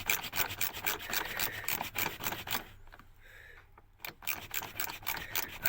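A screwdriver works a slotted screw loose from an old panel on a boat, giving close, repeated rasping scrapes that stop for about a second midway and then resume.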